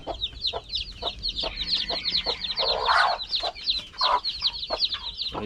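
A mother hen clucks softly and repeatedly at close range while newly hatched chicks cheep in rapid high peeps around her, a dense continuous chorus.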